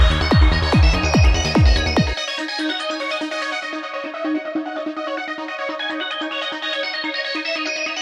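A Pulsaris synth preset plays a busy, bright Goa trance melody of repeated rapid notes, opening with a few loud plucky bass-heavy hits before thinning to a steady, sustained synth line over a light pulse, with no voices.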